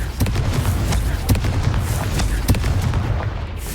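Confringo explosion spell cast in Hogwarts Legacy, a series of sharp booming blasts repeating at irregular intervals, loud and punchy over a low rumbling game background.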